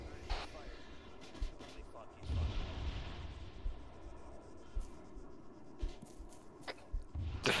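Rockets and artillery blasts in the Arma 3 Antistasi game, dull distant booms scattered through, one longer rumbling burst near the middle, with sharper cracks toward the end beneath low talk.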